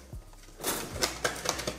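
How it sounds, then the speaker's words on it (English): Scissors snip at the packaging of a Pokemon tin: a handful of sharp, close clicks and cuts in an uneven rhythm over about two seconds, with no talking. "grab some scissors, get that one opened."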